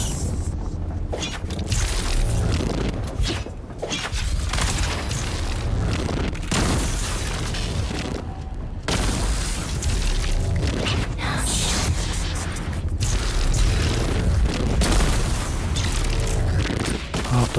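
Gunfire and explosions in the video game Dune Awakening make a dense, continuous barrage of loud booms and bursts. The barrage goes on with almost no break, and game sounds and faint voices are mixed in under it.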